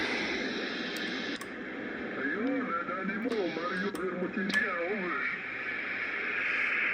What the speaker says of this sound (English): It doesn't have as much hiss to it.